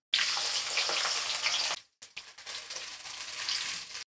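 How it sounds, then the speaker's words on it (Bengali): Chopped onions fry in a pan with dried chillies and panch phoron, giving off a steady, close hiss and sizzle. The sound breaks off briefly and then resumes while stirring. "পেঁয়াজগুলোকে হালকা করে একটু ভেজে নিলাম।"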